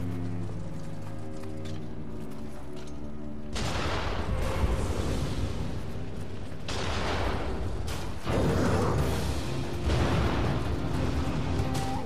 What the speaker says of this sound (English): I don't want gunfire while I'm fighting you.